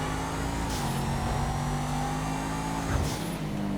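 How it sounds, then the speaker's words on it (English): Massacro sports car engine in GTA Online, a sustained loud drone held at steady revs with slight pitch shifts as the throttle changes, plus a brief shift-like dip near the end. "The engine sound is indeed one of my favorites as well."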